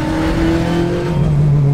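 A Formula 4 race car with a 2-litre Ford engine mounted behind the driver roars loudly and steadily up close, its engine note holding high then dropping slightly as it shifts.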